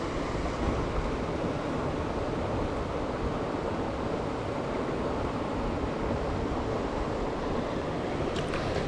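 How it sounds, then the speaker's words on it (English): A waterfall in the Adirondacks rushes in a constant broad roar, loud and close, with no break or talk, steady white-noise texture throughout. "This waterfall, you guys, is freaking epic"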